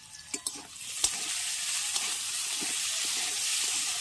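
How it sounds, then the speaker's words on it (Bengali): Potato pieces frying in hot oil in a pan for homemade chowmein, giving a steady close sizzle and hiss after a few sharp clinks of stirring at the start. "এবার আলুগুলোকে প্রথমে আগে একটু ভেজে নেব"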